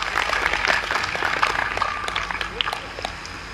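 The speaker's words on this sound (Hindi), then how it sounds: "एक बार इनके लिए जोरदार तालियां बजा दीजिए।" An audience at a Hindi Diwas poetry recital claps for a poet, a dense burst that thins out over a few seconds, with some voices mixed in.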